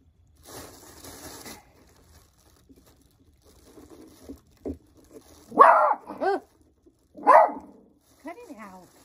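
A dog barks several times in short bursts, close by, with people talking around it and some rustling noise early on.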